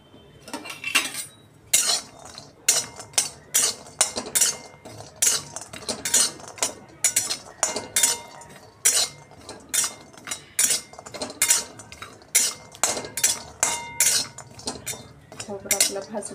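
Grated coconut and dry spices roasting in a pan for misal, a metal spatula scraping and knocking against the pan in a steady, brisk rhythm of repeated clinks, close and fairly loud throughout, no voices.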